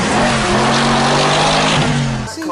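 An American car engine revs hard while being driven, a loud, steady, throaty drone that holds for a couple of seconds and then cuts off abruptly.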